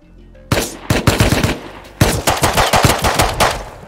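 Rapid bursts of automatic gunfire in the survival video game Rust, loud and close, with a short opening burst followed by longer rattling volleys of shots.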